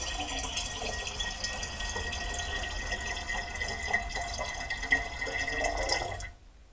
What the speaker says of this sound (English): Pour in the previously boiled bottling sugar.